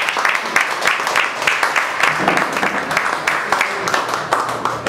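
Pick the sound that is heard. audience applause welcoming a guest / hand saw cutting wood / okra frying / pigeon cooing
audience applause welcoming a guest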